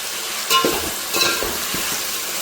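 Chopped onion sautéing in a hot pan while being stirred for a village-style chicken biryani, a steady close sizzle with a few scraping stirs of a spoon against the pan.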